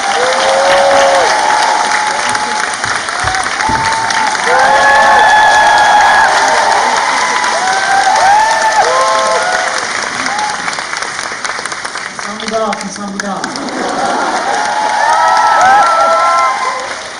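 A theater audience applauds at the curtain call of the musical Marie Antoinette, sustained loud clapping mixed with cheers, whoops and high shouts, swelling and dipping over a long stretch.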